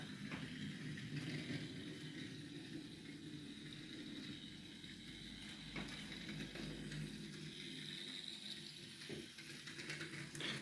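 A model railway train runs a lap of a layout, a faint steady mechanical whir and rattle with occasional clicks over the wheels, continuous and fairly distant, with no voices.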